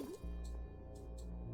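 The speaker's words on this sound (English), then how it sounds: "so that we can drain the water out of this" Water drains in the video game Oxygen Not Included, heard as soft gurgling drips and liquid squelches with a low hum underneath, quiet and intermittent.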